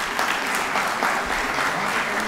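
Audience at an academic economics conference lecture clapping steadily, a dense, even round of applause from a roomful of people, with no voices standing out.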